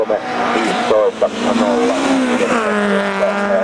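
A rally car at a rally sprint revs and howls as it races past, the engine note rising and shifting across several seconds while an announcer talks over it.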